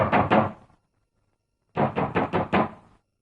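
Knuckles rap on a wooden door in a 1944 Hindi film scene: two quick knocks, a pause, then five firm knocks in a row, loud and close with no talking.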